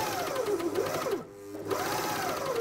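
A Britannia coverstitch sewing machine stitches fabric with a steady, close motor whir that rises and falls in pitch, pausing briefly near the middle before starting up again; no one speaks.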